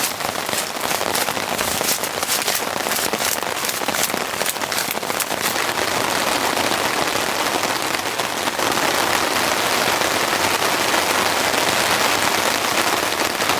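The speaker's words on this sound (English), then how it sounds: "Looks like we're in for another round of deluge." Heavy storm rain pounds a tent in a dense, loud, unbroken roar of drumming drops, with sharper crackling impacts early on and the downpour holding steady throughout.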